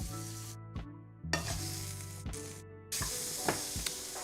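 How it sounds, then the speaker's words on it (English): Steak searing in a pan on an electric stove, a loud steady sizzle that hisses on without a break, with a few brief crackling surges. "that's a sear for sure"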